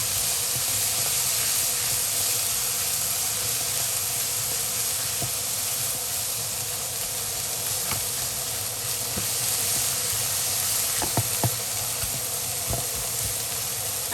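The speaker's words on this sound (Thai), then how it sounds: "ผัดทุกอย่างให้สุกก่อนค่ะ" Onion and mixed three-colour vegetables stir-fry in a pan, a loud continuous hiss and sizzle steady throughout with a few faint scrapes of the spatula, no voices.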